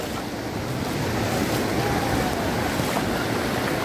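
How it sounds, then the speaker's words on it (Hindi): Ocean waves wash steadily onto a beach in Goa, a loud, continuous roar of surf with wind buffeting the microphone throughout. "और लहरें हमेशा तैयार रहती है भिगोने के लिए"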